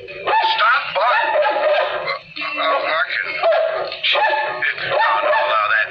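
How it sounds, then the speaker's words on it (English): A dog yips and barks repeatedly in quick bursts close by, mixed with whimpering tones, in an old radio drama, with a voice speaking among the barks. "You bark as much as you want"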